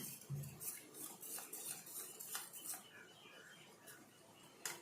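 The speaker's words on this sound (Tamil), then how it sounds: "நான் ஒரு முக்கால் கப்பு தண்ணி ஊற்றி கலக்கிறேன்" A spoon clinks and scrapes repeatedly against a bowl, quick light taps of stirring cornflour into water, fairly quiet and close.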